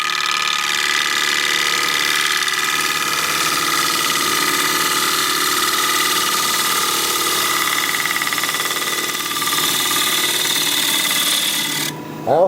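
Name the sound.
lathe turning an alder bowl with a gouge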